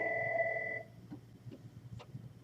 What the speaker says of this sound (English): looks like our phone is ringing.